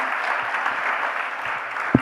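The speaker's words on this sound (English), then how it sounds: "please give a big round of applause to Brian A. Catlos in conversation with William Dalrymple" Steady applause from a seated audience at a literature festival session, a continuous dense patter of clapping that holds at an even level, with a single thump near the end.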